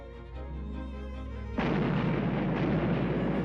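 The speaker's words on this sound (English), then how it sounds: "the Swedish cannons opened up on the hilltop of the Albuch" Swedish cannon artillery fire at the Battle of Nördlingen in 1634, a sudden loud, dense roar of barrage bursting in over a low rumbling background and sustaining without a break.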